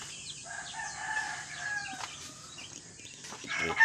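Cockerels crowing and clucking in a farmyard, a drawn-out crow near the start with more calls and clucks following, moderately loud over a steady background hum.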